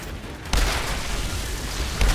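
Explosions go off in the shooter video game Outriders, two heavy booming blasts about a second and a half apart over a dense, noisy background of game effects.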